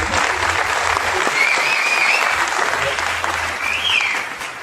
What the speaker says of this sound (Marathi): ज्या काही 4-5 टाळ्या माझ्यासाठी वाजल्यात.